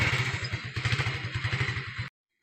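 Motorcycle carrying riders along a road toward Khanpur, its engine a steady, fast low putter with a clattering, wind-rushed rumble, close and continuous for about two seconds before cutting off.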